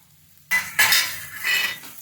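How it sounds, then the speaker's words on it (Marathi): A utensil stirs spices into potato curry in a pan, giving a couple of brief scraping, clinking strokes against the metal with no talk. "मिक्स करून घ्यायचं आता"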